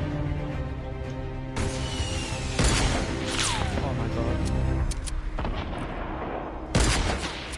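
Gunfire in the Fortnite Battle Royale video game, with several loud sharp shot bursts landing over a busy game mix and continuous voice chat throughout.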